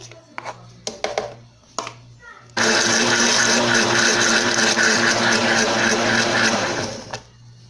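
An electric blender starts up and whirs loudly and steadily for several seconds, mixing gelatin into a no-bake, egg-free coconut pudding mixture, after some brief kitchen handling noises and before it winds down.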